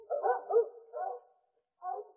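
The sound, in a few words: dogs barking in a fable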